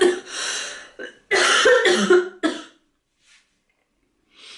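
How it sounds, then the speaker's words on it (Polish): A woman coughs close up in a quiet room, a burst of several harsh coughs followed by another rough cluster and a short final cough, then near silence with faint breathing. "przepraszam, kaszlałam"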